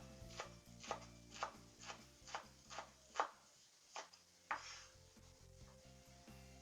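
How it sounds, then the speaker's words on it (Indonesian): Shallots, chili and tomato being sliced with a knife on a cutting board for a stir-fried sardine dish, about a dozen crisp, evenly spaced chops close up, quiet and alone over faint background music. "Nah sekarang aku mau iris dulu."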